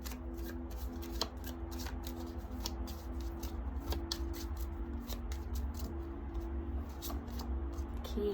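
Oracle cards being shuffled at close range, a steady run of soft riffling taps and flicks over a low background hum, with no talking.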